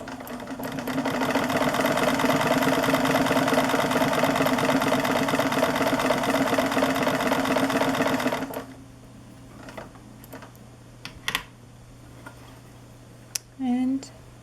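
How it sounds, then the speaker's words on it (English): Manual mechanical sewing machine stitching a zigzag for about eight seconds, a steady, fairly loud whirring hum with fine rapid ticking, then stopping; afterward only a few faint clicks and light handling noises remain. "one of the things that you might notice as I run this machine is how quiet it is"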